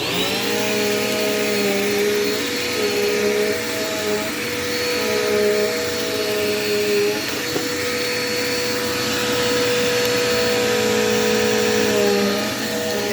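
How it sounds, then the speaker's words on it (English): A Dirt Devil Quick Power vacuum cleaner runs steadily and loudly throughout, its motor whine holding an even pitch with slight shifts as it moves across the floor. "So right now we are going to move on to vacuuming with the Quick Power"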